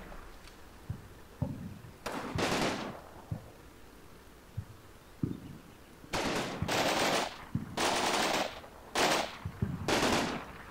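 Bursts of automatic gunfire from friendly troops in a video game battle, a few short single shots at first, then several long sustained volleys crackling back to back at mid distance.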